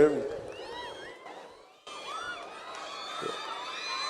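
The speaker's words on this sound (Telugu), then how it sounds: "మీరు చప్పట్లు కొడుతుంటే" A large audience at an Andhra University centenary celebration claps and cheers, with whistles and shouts over a broad crowd roar that dips briefly, then swells again and holds steady.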